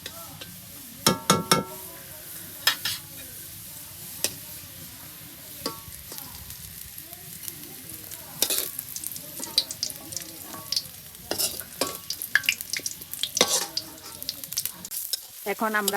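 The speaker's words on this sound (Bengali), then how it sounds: "চিংড়ি মাছগুলো রান্না করার জন্য পেঁয়াজগুলো ভালো করে ভেজে নিব।" Onions fry in a pan, sizzling steadily while a utensil stirs and scrapes, with sharp clinks at irregular intervals and a few brief words spoken.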